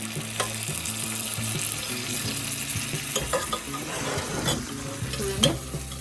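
Dal tipped into a hot pan and stirred through, a continuous sizzle and frying crackle with scraping stir strokes, close and steady with no talk.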